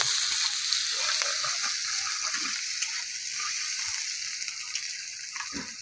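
Chopped onions frying in oil for a masoor lentil fry, a steady close sizzle and hiss running through the whole stretch with faint clinks of stirring.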